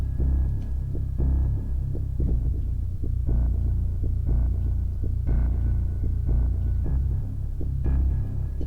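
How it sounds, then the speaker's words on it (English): A deep, growly Omnisphere synth bass patch with a bass-guitar-like string tone plays a slow line of plucked notes, low and throbbing, with no voices. "It's got like a bass guitar type string sound to that on that one."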